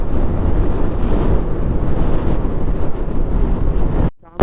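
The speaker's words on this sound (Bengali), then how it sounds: "এত হাওয়া এত হাওয়া" Strong, steady wind roars over the microphone throughout a motorcycle ride on a bike trip from Malda toward Tarapith in 2025, loud and continuous, before cutting out abruptly near the end.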